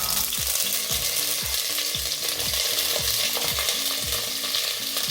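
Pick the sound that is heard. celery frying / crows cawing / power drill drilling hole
celery frying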